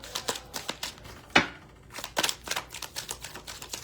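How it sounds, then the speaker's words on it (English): A brand-new tarot deck with stiff, slightly sticking cards is shuffled close up, giving quick irregular clicks and soft riffling bursts. "Last shuffle."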